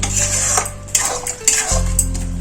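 A spatula clanks and scrapes against a pan while ridge gourd and onion in poppy seed paste are stirred over low heat, giving several sharp metallic knocks amid a soft frying hiss.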